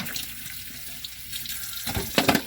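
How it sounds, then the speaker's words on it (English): Peeled potatoes are rinsed under a running tap at a van kitchen sink: a soft water stream runs first, then heavier splashing bursts near the end as the potatoes are moved under the flow. "so I have my potatoes peeled. Rinse them off again."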